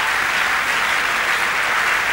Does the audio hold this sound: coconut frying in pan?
no